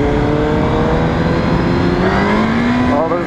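A 2015 Suzuki GSX-R1000 motorcycle engine pulls hard under acceleration, a loud continuous roar with rising harmonic whine that climbs steadily in pitch, close and dominant throughout, with a brief shift near the end.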